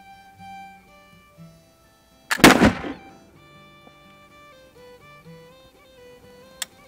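A Charleville flintlock musket fires one loud, booming shot that decays with a rumble partway through, over soft background music.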